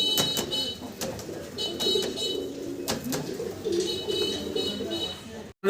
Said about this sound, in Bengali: এটা হোমা কবুতর পাকিস্তানি হোমা